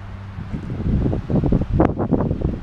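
Steady gusting wind near the Hutt River, New Zealand, buffets the microphone, a loud low rumble with rustling, and faint voices murmuring beneath it.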